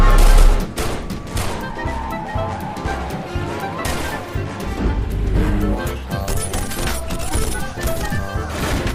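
Bursts of gunfire crackle amid a loud, dense film soundtrack with music and crashing impacts, rapid shots recurring throughout.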